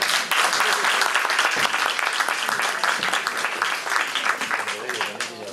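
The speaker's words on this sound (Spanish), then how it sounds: "Un aplauso para ella." Sustained applause from an audience at a cultural-week talk on coping with breast cancer, dense and steady as a speaker is welcomed, with a voice briefly audible beneath the clapping.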